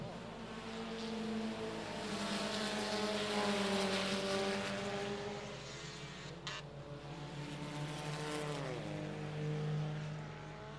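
Several race cars run close together in a championship night race at I-37 Speedway, engines droning and shifting pitch as they pass, with a commentator's voice faintly under the steady roar.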